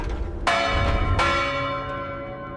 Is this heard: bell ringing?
yes